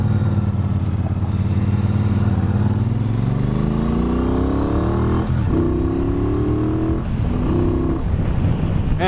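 A Triumph Bobber motorcycle engine roars steadily while riding, its pitch climbing through the gears with brief dips at shifts, loud and close with wind rush.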